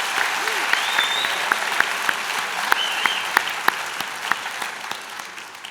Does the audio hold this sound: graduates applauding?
yes